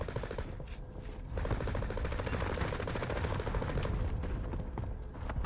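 AK-47 fire on Rebirth Island in a video game sounds as rapid automatic bursts, quiet at first and then steady and continuous from about a second and a half on, with distant booms underneath and no voices.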